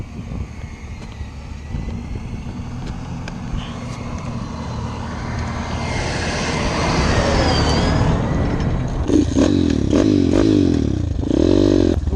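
An enduro motorcycle starts up and pulls away through a small forest, its engine rising from a low idle to a louder, close revving roar over rustling and clatter.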